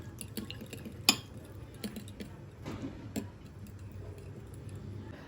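Spoon clicking and scraping against a bowl while flour and homemade yogurt are stirred together for a baby's vegetable soup, light irregular taps with one sharper clink, quiet and close.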